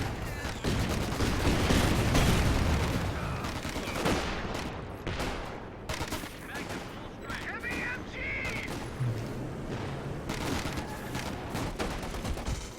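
MG34 machine gun bursts and rifle fire in the World War II strategy game Company of Heroes 2, dense rattling volleys and scattered shots continuing throughout, under an excited commentator's steady talk.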